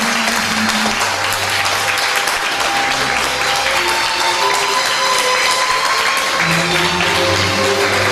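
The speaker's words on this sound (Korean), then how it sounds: "다시 한번 큰 박수로" Sustained loud applause from a lecture hall audience, dense and steady throughout, with faint musical tones running underneath.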